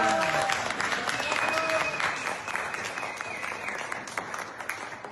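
An audience at a conference talk claps loudly and continuously, a dense crowd ovation that slowly tapers off across a few seconds, with faint voices mixed underneath.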